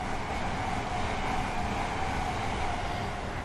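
An LNER Class 801/1 train rushing past at steady speed, a continuous broadband roar of wheels and air, close and loud, holding level throughout without talk.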